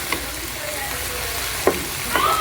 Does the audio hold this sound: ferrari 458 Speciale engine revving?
no